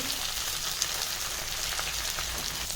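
Okra sautéing in a pan with salt and turmeric gives off a steady, even sizzle and crackle that runs without a break, with no voices.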